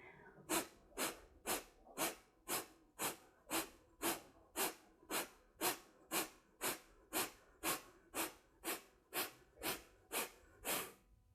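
Forceful rhythmic breath-of-fire yoga breathing, about twenty sharp nasal exhalations at a steady pace, close and alone.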